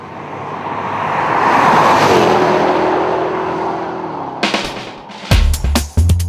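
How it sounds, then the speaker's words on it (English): A supercharged V8 in a Jaguar XK R sports car swells into a loud, rising roar as it passes close by, then fades, followed by a few sharp knocks and thumps. "A supercharged V8 provides huge shove and grunt, ensuring true supercar performance"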